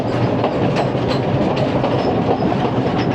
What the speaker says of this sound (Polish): Ten pociąg.